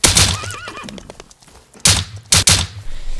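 A horse in the game Rust whinnies with a wavering, rising-and-falling call, followed by a few sharp thuds and hoof knocks.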